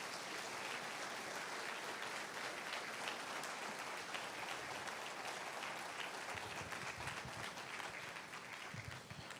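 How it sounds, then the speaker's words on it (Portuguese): A church congregation gives sustained, dense applause for about nine seconds, loud and full throughout and easing slightly near the end, with no voices over it. "dá uma melhor salva de palmas suas para Deus"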